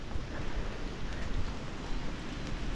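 Heavy rain pours down during a flood, a dense, steady wash of drops hammering surfaces up close with no voices.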